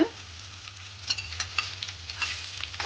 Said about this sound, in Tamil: கச்சான் கஜு எல்லாத்தையும் போட போகிறோம் எல்லாத்தையும் இந்த எண்ணெயில் சேர்த்து